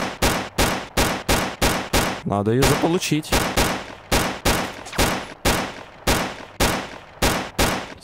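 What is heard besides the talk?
gunfire in the video game STALKER Clear Sky mod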